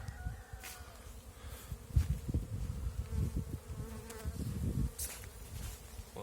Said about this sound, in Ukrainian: Бджілки облітуються, літає так крепко.